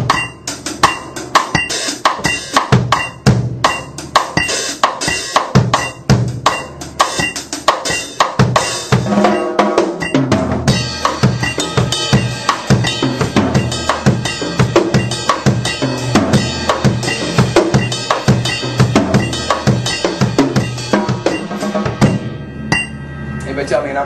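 A bossa nova drum groove plays on a kit, busy and continuous, with a steady pulse of crisp hits and cymbal wash, loud and close throughout.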